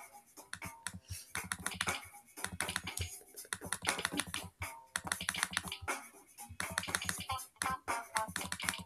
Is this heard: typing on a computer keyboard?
yes